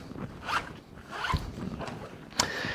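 A zipper on a WindTook 15.6-inch travel laptop backpack pocket is pulled several times in short rasping strokes, close up and alone.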